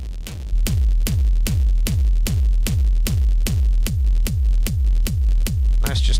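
Dry synthesizer sequence with the EQ and Sherman filter bank removed: a steady run of about fifteen evenly spaced, punchy bass-heavy hits with bright transient tops, loud and close, with no voices.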